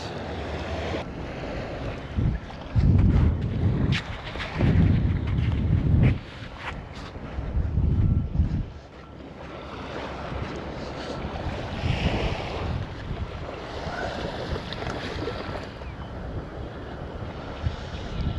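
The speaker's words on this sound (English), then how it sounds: "The wind has really started to pick up now" Wind gusting at a creek shore, rumbling microphone buffets in strong bursts early on, then a steadier rushing blow with faint water wash, no talking.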